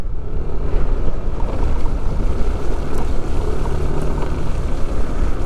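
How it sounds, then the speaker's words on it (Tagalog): Strong wind buffets on a coastal bypass road, a loud continuous low roar and rumble that stays steady throughout with no talking. "Lakas ka lang ng hangin."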